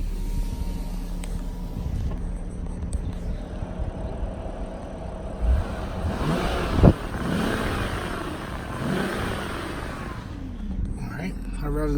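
Engine of a 2006 BMW 325xi sedan with 68k miles, revved up to about 4,000 RPM after a repair, a steady mid-pitched drone that swells toward the middle of the stretch and then eases back, with someone talking over it.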